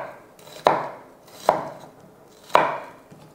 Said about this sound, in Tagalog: Pero I suggest pag onion, mag-mince kayo gamit ang kutsilyo.